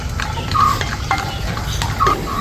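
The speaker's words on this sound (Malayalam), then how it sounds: "നമുക്ക് കുറച്ച് അണ്ടിപ്പരിപ്പ് വറുത്തെടുക്കണം കേട്ടോ" Cashew nuts roast in ghee in a pan, a spoon scraping and clinking against the metal in a few spaced strokes over a low steady sizzle, with no speech.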